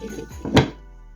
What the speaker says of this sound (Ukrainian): Накриваємо кришечкою